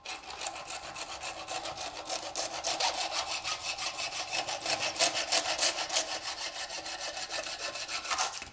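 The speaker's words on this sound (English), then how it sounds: "I'm gonna use a hacksaw now because that blade's a little too aggressive." Hacksaw cutting through a turkey spur or bear claw, a steady rhythmic back-and-forth rasp of quick, evenly spaced strokes, close and fairly loud with no talking.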